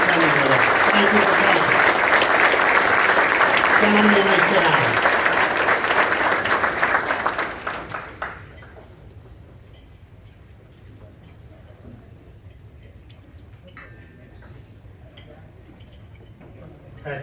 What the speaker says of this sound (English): Let's have a round of applause for our past honorees attending with us